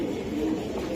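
Racing homer pigeons cooing in a low, steady murmur, a continuous close rumble with no clear breaks over about a second.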